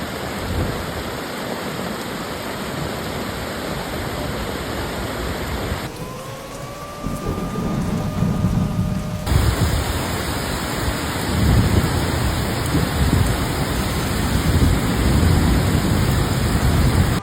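High-intensity thunderstorm over Oxnard and Ventura, California, with heavy rain hissing steadily and a low rumbling swell in the second half.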